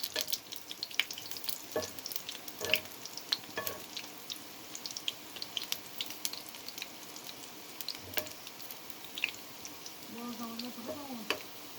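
Pitha fry in a pan with a faint continuous sizzle, crossed by soft clinks and scrapes as pieces are turned, and a brief voice near the end.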